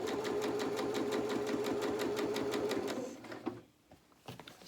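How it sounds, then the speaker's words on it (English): Sewing machine running steadily while top stitching fabric for a reusable bag, a fast even mechanical stitching rhythm for about three seconds, then it stops, leaving faint handling clicks. "This is top stitching, so it is important to keep it nice and neat"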